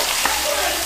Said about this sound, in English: Check it out, pork frying inside.